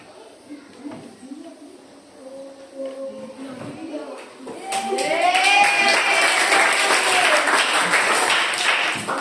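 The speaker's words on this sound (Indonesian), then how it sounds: "Tepuk tangan ke teman-teman ya." Students in a classroom break into applause after a teacher's speech, a dense, close burst of many hands clapping that swells and holds for several seconds.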